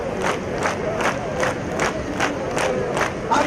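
A large crowd at a gathering in Burundi claps in a steady rhythm, about eight evenly spaced beats under a constant roar of cheering voices.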